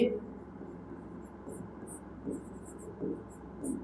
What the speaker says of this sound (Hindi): तो लिखेंगे,